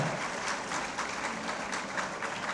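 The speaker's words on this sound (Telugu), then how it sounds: "give a big round of applause" An audience at an inspirational student talk claps steadily, a broad, even wash of applause at moderate distance with no voices over it.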